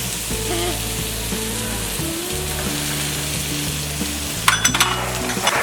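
Broken wheat upma with green peas and capsicum sizzles steadily in a pan as it is stirred, with light metallic scraping and clinks of a spoon near the end, while soft music plays underneath.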